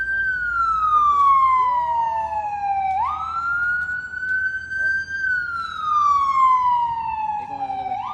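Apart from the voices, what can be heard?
ambulance siren passing by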